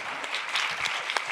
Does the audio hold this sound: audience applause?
yes